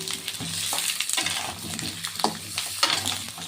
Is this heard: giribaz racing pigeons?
no